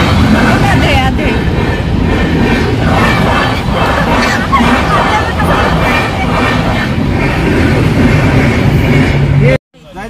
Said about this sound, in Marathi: रेल्वे अध्याय रेल्वे बघ.